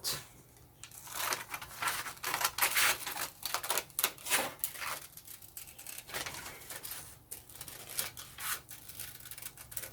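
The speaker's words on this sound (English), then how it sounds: "And cut it out." Quick, crisp snips of scissors cutting out a paper heart for a Scandinavian-style decoration, in irregular rapid bursts of close-up cuts with brief pauses between.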